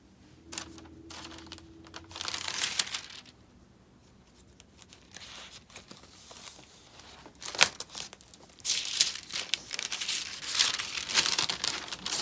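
Pages of a stack of art journals decorated with painted papers and stickers are flipped one after another, giving crinkly paper rustles and soft page slaps in uneven bursts, close by.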